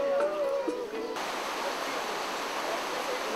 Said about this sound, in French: Là voilà la rivière.